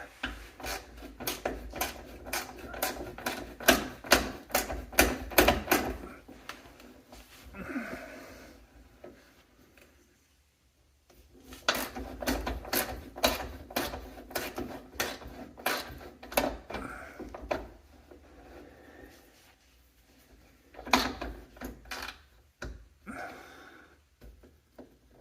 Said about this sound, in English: Ratchet's not cooperating now.